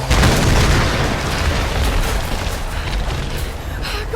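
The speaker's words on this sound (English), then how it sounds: "Explosions." Dense, rolling explosions in Tomb Raider: Definitive Edition build into a continuous loud rumble with deep booms and crackling debris, fading slightly toward the end.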